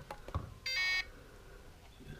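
Low-battery voltage alarm on a Turnigy TGY-i6 radio transmitter: one short, loud, shrill electronic beep lasting about a third of a second, with quiet room noise before and after.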